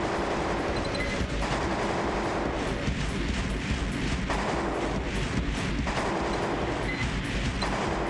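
Mech weapon fire in the video game Armored Core: Master of Arena, a dense continuous roar of booming gunfire that stays loud and steady throughout, with no talking.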